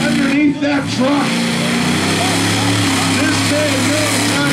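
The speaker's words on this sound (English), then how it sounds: "Listen at that power in that engine!" A monster truck's engine roars loudly during a freestyle jump, its pitch rising and falling in revving surges. An excited announcer talks over the engine throughout.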